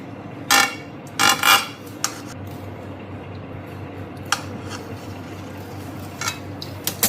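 A knife cuts a loaf of whole wheat flour bread baked in a kadai into pieces, making a few short, crisp sawing and scraping strokes separated by quiet pauses.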